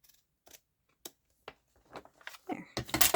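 Scissors snip paper trimmed for a journal, a few quiet close clicks spaced apart that build into a faster run of louder crisp cuts at the end.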